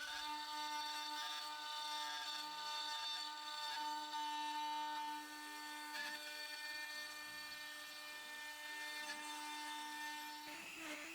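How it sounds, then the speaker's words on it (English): A high-speed rotary engraving tool whines with a steady pitched tone as it cuts letters and numbers into walnut wood, fairly faint, with brief dips and scratchy bursts as the bit moves along. "So as I'm doing my engraving"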